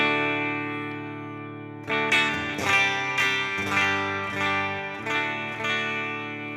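Clean electric guitar on the bridge pickup of a dual-amp rig, a sustained chord ringing before a run of picked notes and strummed chords, bright and close with a slight effects sheen.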